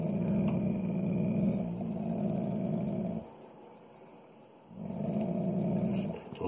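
Dogs growl outdoors in low, rumbling stretches: a long snarl, a brief quiet gap, then another sustained growl close by.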